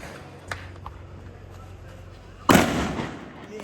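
Firecrackers set off outdoors: a faint pop early on, then one sharp, loud bang with a crackling decay that fades over the following second.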